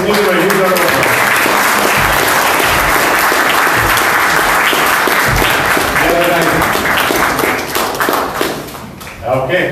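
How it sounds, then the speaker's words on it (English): An audience at a Google startup partnership launch event applauds loudly and steadily, a dense wash of clapping with occasional thumps, while a voice talks over it before the clapping tapers off near the end. "let's give them a huge round of applause"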